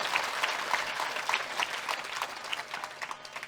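An audience at a spiritual discourse in Rajouri, Jammu and Kashmir, gives a round of brisk, sustained applause, many hands clapping evenly before it thins out toward the end.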